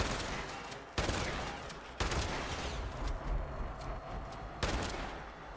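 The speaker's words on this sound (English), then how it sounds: "Some good shooting there, David." Rapid bursts of gunfire from the Fallout 76 video game, with several sharp onsets about a second apart over dense, continuous shooting and crackle.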